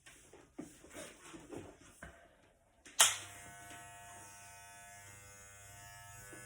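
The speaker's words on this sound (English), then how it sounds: "make sure your number 1 clipper guard's on and make sure that the lever's down" Electric hair clippers with a number 1 guard switch on midway and then hum steadily at close range, a bright buzzing drone cutting hair after a few soft handling noises.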